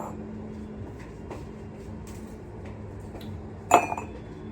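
Dishes and cutlery clink softly in a home kitchen as plain tea is poured into a big mug, ending in one bright, sharp clatter of ceramic.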